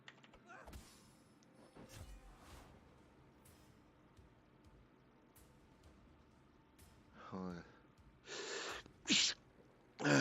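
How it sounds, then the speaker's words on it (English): A character sneezes in the South Park: The Fractured but Whole video game, with a quiet sharp burst among sparse game effects, followed by louder bursts of character vocalizing near the end. "Sneeze."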